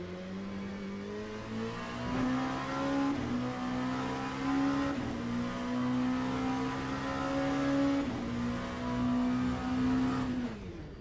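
Race car engine from the Le Mans Ultimate sim, holding a steady high drone with shifting pitch as it drives, loud and continuous throughout with no talk.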